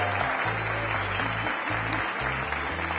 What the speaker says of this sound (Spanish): Quiero que en primer lugar le brindemos un aplauso a las 24 aspirantes que compiten esta noche por la corona